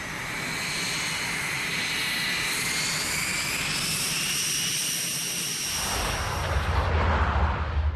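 A Lockheed U-2 reconnaissance plane, flying at high altitude over the Soviet Union in the Cold War, passes with a sustained, loud jet-engine roar and whine that shifts into a deeper rumble toward the end.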